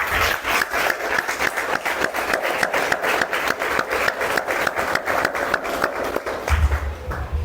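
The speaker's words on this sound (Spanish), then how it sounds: "Denle un aplauso al Señor" Church congregation applauding during a Spanish-language sermon, a steady dense patter of many hands clapping throughout, with low rumble entering near the end.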